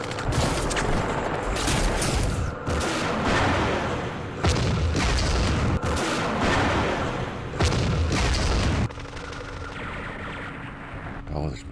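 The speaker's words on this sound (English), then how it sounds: "Oh, there's machine guns up here." Machine gun fire and heavy booms from the Vietnam war game Campaign Series Vietnam, loud repeated bursts and blasts in quick succession with brief gaps, over a game soundtrack, with a voice talking over part of it.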